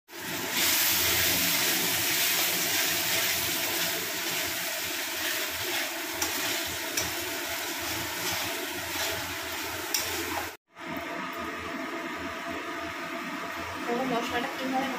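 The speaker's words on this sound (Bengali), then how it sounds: "মশলাটা কিভাবে ভাজা হচ্ছে" Spices frying in hot oil for ghugni give a steady, close, bright sizzle and hiss that runs almost throughout, briefly cut off once, with no talk over it.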